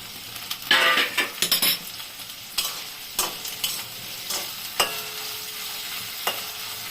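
Beans being stirred in a frying pan for a Bengali potato and poppy-seed chorchori, spatula scrapes and clinks landing in irregular bursts over a low, steady sizzle, close and fairly loud.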